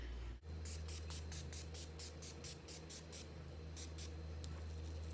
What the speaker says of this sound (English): I'm gonna finish everything with the Urban Decay setting spray.